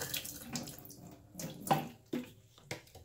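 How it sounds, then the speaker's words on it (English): Water pours out of the tank of a Hoover FH11400 carpet cleaner in uneven splashing bursts, close and fairly quiet, with a few sharper gushes toward the end. "Empty out the water this way."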